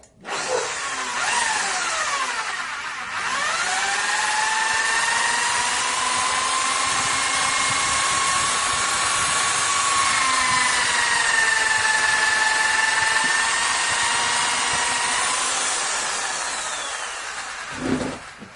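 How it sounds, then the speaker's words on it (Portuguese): A CNC router spindle drills a hole, its high whine rising quickly, holding steady and loud with a faint cutting rasp, then winding down near the end. "eu vou fazer o primeiro furo aqui"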